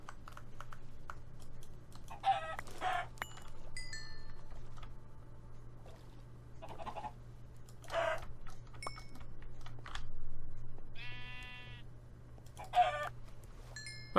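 Chickens in a video game cluck in short, scattered bursts over a quiet background hum, with a few brief clicks between the calls.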